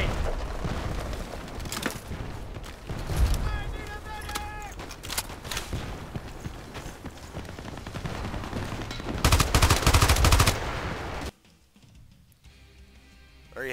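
An FN Minimi Para machine gun fires in a video game in dense, loud bursts with booms and explosions layered in, followed by a quieter stretch near the end, while a voice talks over the gunfire.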